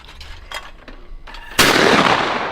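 A single loud, sharp shotgun blast at a clay target cracks out near the end and rings off, preceded by quieter background rustle and faint noises.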